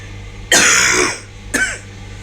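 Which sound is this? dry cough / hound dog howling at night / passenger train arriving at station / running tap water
dry cough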